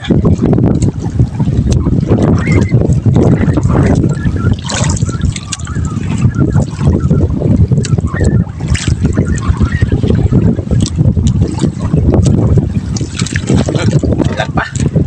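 Rough, choppy sea around a small boat, a constant loud wash of water and splashing with wind buffeting the microphone and occasional voices.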